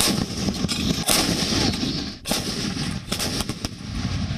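Artillery cannons fire loud, heavy booms, one after another, over a constant roar of battlefield noise, with sharp blasts near the start, in the middle and toward the end.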